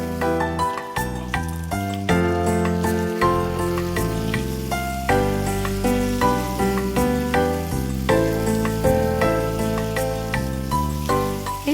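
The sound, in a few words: mutton frying in spiced oil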